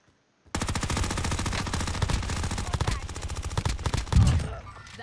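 Rapid automatic gunfire in the online battle royale game Call of Duty Warzone, a dense, steady burst of close shots running about four and a half seconds with a heavier thump near the end.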